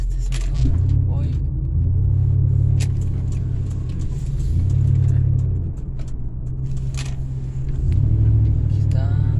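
Several cars pass on a road near a roundabout, heard from inside a vehicle, with deep rumbling swells coming and going in waves under a steady low engine hum.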